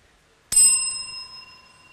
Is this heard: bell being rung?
yes